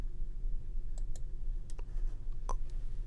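A computer mouse clicks in a quiet room, a handful of short, crisp, close clicks scattered over a few seconds against a faint steady hum.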